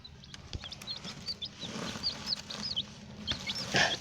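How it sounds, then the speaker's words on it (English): Small chicks perched on a hand make high, soft peeping chirps in a scattered series, close by and fairly quiet, with light rustling and handling noise underneath. "Hey, little chickens."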